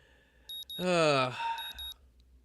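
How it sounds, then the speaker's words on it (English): A morning alarm clock in the visual novel game Katawa Shoujo beeps in short electronic bursts with a sweeping tone in the middle, clear and close. "morning alarm sounds, and I roll over"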